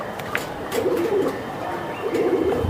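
Silver giribaz pigeons cooing in two soft, rolling bursts, close by, with light rustling and faint background noise.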